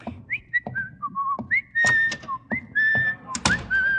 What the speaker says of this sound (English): I thought you were whistling for me.